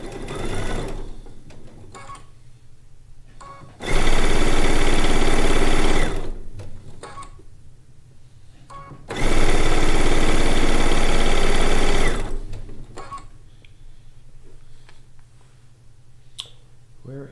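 A sewing machine stitches a quilt top in two long, loud runs of rapid mechanical whirring, separated and framed by quieter handling clicks and fabric rustle.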